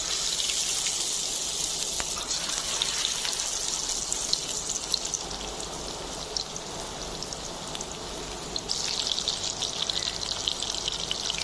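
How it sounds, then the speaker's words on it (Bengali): Pieces of fish go one by one into hot white oil for a Thai fish curry, giving a steady, bright sizzle that holds evenly throughout and swells slightly near the end, with no voices. "তেলটা গরম হয়ে গেছে। এবার আমি মাছগুলো একটা একটা করে দিয়ে দিই।"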